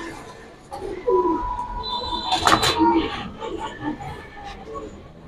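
A Grizzle Mili pigeon pair coos softly in a few low calls at close range, mixed with brief handling knocks and someone talking.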